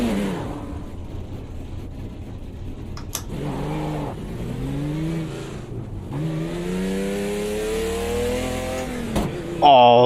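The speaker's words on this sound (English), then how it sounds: "Engine is on." A Copa FL Puma GTB race car in a racing game starts up in the Bathurst garage, then its engine revs up and down in smooth rising sweeps at close range.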